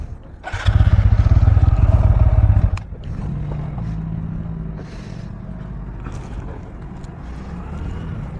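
A TVS motorcycle engine runs loud and close, first revved hard for about two seconds, then settling into a softer steady idle with light mechanical clatter.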